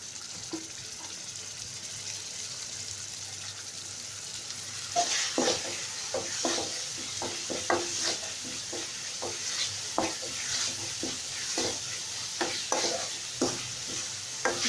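Onion paste and spices sautéing in a pan for beef tili bhuna, with a soft steady sizzle underneath and repeated sharp scraping stirs from about five seconds on, spaced irregularly and close by.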